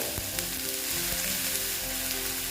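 Onions sizzling and frying steadily in a pan while being browned for a spicy Bengali tangra fish curry, a continuous close hiss with small crackles and occasional stirring.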